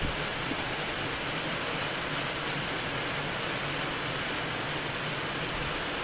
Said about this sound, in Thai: พี่น้องฟังเสียงฝน